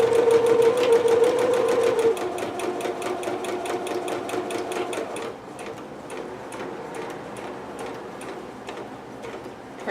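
A sewing machine runs a straight stitch along the sleeve of a Pikachu dress, a fast steady mechanical ticking that shifts to a slower, lighter rhythm partway through, close and alone.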